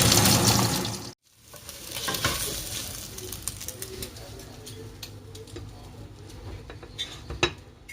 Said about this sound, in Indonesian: Sekarang kita goreng telur teman-teman